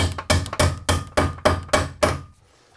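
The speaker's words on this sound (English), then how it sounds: "the plier hammer" A plier hammer strikes repeatedly while electrical wiring is run for a DIY bathroom job, giving seven sharp, loud, evenly spaced blows, close by and with no talking.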